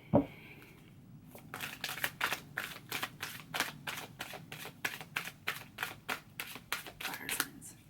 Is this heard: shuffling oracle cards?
yes